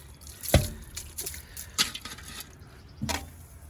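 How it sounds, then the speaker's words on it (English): Light splashes of water rinse over a surface streaked with hard-water spots, coming as a few separate wet bursts and drips against a quiet background. "let's try to rinse this off and see where we are at. Just a bit of water."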